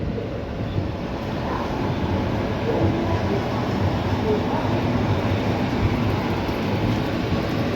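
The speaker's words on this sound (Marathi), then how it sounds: "समोर आहे गोंदिया कोल्हापूर महाराष्ट्र एक्सप्रेस" The Gondia-Kolhapur Maharashtra Express rumbles past in a steady, continuous roar, with buffeting wind across the microphone and faint voices beneath.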